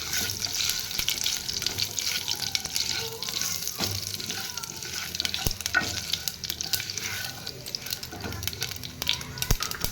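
Cumin, mustard seeds and dried red chillies fry in a pan of hot oil for an Odia vegetarian lunch, giving a continuous close crackling sizzle with scattered pops and the occasional clink of a stirring spoon.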